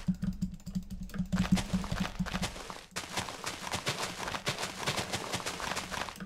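Rapid butterfly clicking on a computer mouse, a dense stream of fast, sharp, close plastic clicks, with a softer and more even clicking run at first and then a louder, quicker burst of clicks.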